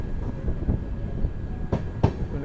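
The Tirumala Express runs on rails between Duvvada and Yelamanchili, heard from inside the last coach: a loud, steady rolling rumble with two sharp metallic clanks near the end.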